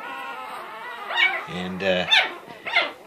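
A one-week-old female puppy whimpers in a string of high, thin whines and yelps, close and clear, with a person speaking briefly.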